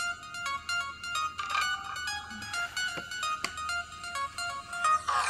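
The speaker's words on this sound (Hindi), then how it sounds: "अरे किसका फोन आ रहा है?" A phone ringtone plays a bright electronic melody of repeated short chiming notes in a steady pattern, fairly clear and close, with no talking over it.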